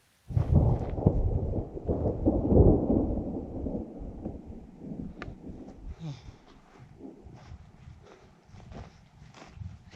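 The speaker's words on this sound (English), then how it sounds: "you can feel the storms coming from the east" Thunder rumbles from storms approaching over the Colorado Rockies, a loud rolling boom early on that fades into a lower, sustained rumble with scattered faint crackles.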